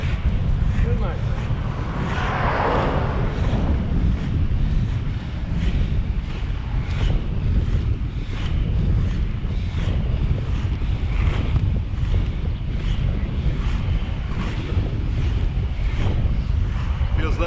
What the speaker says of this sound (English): Here's a bit of wind.